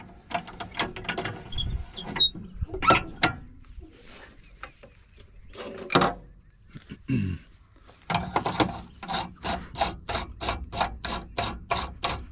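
A threading die is run down the mud-fouled threads of a broken sucker rod, giving repeated close ratcheting clicks and metallic scraping in rhythmic bursts with short pauses and no voices.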